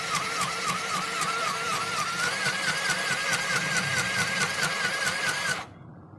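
A small mini sewing machine whirs with a steady motor buzz and rapid needle clatter, its pitch wavering as speed changes, then stops abruptly near the end.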